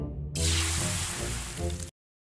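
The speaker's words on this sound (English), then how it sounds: "I put powdered milk into carbonated water" Powdered milk tipped into carbonated water gives a sudden loud fizzing gush with sloshing and hiss, lasting under two seconds before cutting off, heard alone up close.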